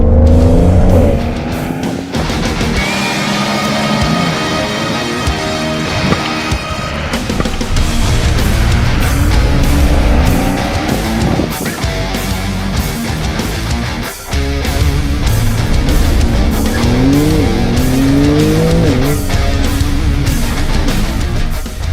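Car lapping an autocross slalom course, engine revving continuously with repeated tire squeals as it snakes through the cones, loud and close throughout with no talking.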